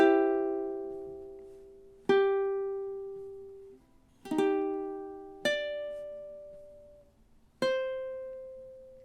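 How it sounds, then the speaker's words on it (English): A solo ukulele plays bars 11 and 12 of a song: five plucked or strummed chords at unhurried intervals, each ringing and decaying before the next, close and clear with no voices. "So now 11 and 12 should sound something like this."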